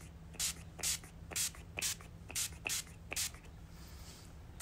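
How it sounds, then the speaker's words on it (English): Urban Decay De-Slick setting spray misted from a pump bottle in short hissing bursts, about eight spritzes in a steady rhythm, close and fairly soft over a low background hum. "It's a setting spray."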